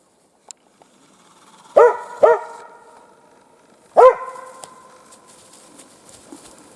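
Three sharp, loud hunting dog barks close by in snowy woods, two in quick succession and a third a moment later, against near silence.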